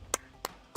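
Three sharp, separate claps spaced about a third of a second apart, recorded close and fairly quiet, playing as a sound effect during a birthday shout-out on a live stream.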